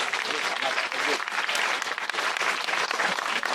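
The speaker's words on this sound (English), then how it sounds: "Please give us a round of applause." A crowd claps steadily and loudly throughout a Philippine Consulate General film showing in Calgary, a dense, continuous round of applause with no pauses.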